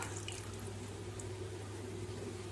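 Tap water runs steadily into a cooking pot for varagu (kodo millet) rice tomato biryani, a continuous close splashing fill with a low hum underneath and no talking.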